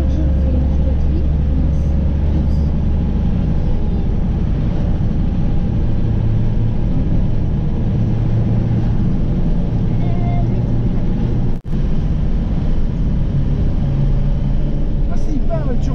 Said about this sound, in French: il part le turbo, vous l'entendez le turbo?